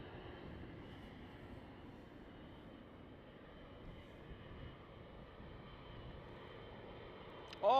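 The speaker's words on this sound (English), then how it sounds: "with a Dreamliner, what a shot" Boeing 787 Dreamliner jet departing at night from Schiphol runway 36L, a steady distant engine roar holding evenly throughout, with a sharp louder burst at the very end.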